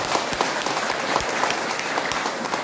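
A congregation applauds at a Christmas church service, with dense, steady clapping from a crowd throughout. No voices stand out above it.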